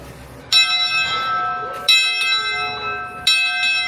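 A large rope-pulled bell on a life-size private train rings three times at a slow, uneven pace, each stroke bright and sustained with long ringing overtones; faint voices murmur in the background.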